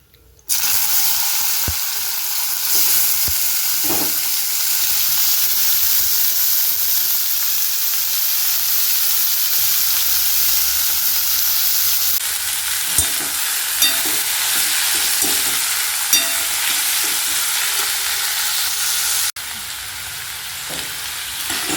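Slices of bitter gourd fry in hot oil with a steady, loud sizzle that runs throughout, broken by occasional clinks and scrapes of stirring.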